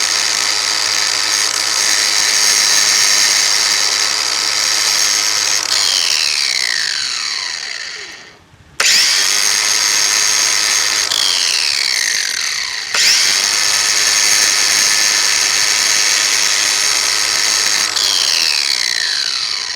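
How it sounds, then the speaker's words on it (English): A small electric grinding wheel grinds down metal points on a 1959 Dodge Coronet repair, loud sustained harsh whine in long passes with brief pauses and spin-downs between them. "I'm going to use my little electric grinding wheel here"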